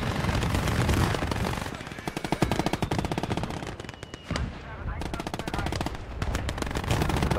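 Sustained bursts of MG42 machine gun fire in the Gates of Hell: Ostfront wartime game, loud rapid rattling volleys with a short pause midway, and faint speech underneath.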